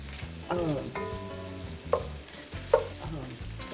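Sausage browns in a pot with a constant close sizzle, while a spoon stirs and knocks against the metal in a few distinct scraping clinks.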